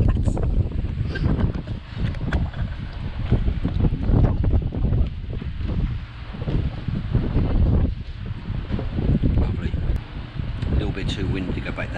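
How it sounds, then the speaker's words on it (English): Strong wind buffeting the microphone on the English coast near Durdle Door and Lulworth Cove, a constant loud rumbling roar with gusting swells throughout, with someone talking over it. "Too windy to go back down on the beach"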